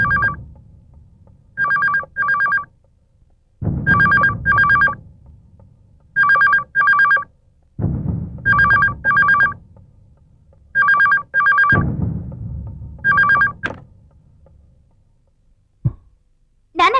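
A telephone rings in repeated bursts of paired trilling rings separated by short gaps, loud and close, with a faint low rumble of room noise between rings and no talking.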